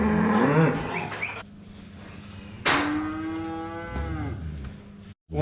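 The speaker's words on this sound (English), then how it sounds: "One of my favorite of our home-raised Hereford cows" Home-raised Hereford cattle on a farm let out loud, close moos: one deep, drawn-out call, then a second rising bellow that slides downward, with a clunk of metal and no talking.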